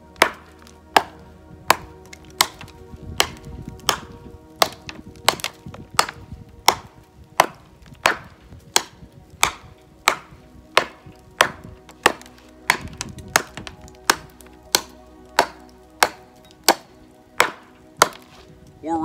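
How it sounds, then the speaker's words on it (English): A small hatchet chopping wood with an angled cut, delivering a long run of sharp, evenly paced blows roughly one per second, loud and close with no voices. "So when you cut with an axe, you're cutting at angles."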